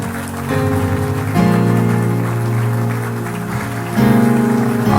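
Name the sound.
audience clapping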